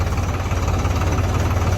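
A tractor engine runs steadily on a village trip among hills in light rain, a loud, close, continuous rumble with a throbbing low-end knock and no talking.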